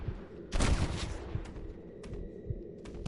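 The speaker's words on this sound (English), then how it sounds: "are you still shooting me even though you're dead over there" Gunfire in the Western video game Red Dead Redemption: a loud burst of shots around half a second in, followed by scattered sharper reports over a busy game background.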